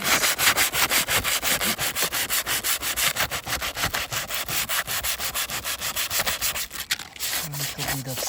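Sandpaper rubbing rust off an asphalt shingle roof surface in steady, rapid back-and-forth strokes, loud and close throughout with no talk.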